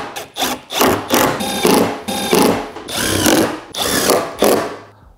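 A power drill drives screws down through pre-drilled holes into a wooden camper storage lid, giving loud, close bursts of whirring and grinding that rise and stop several times in quick succession, with no talk.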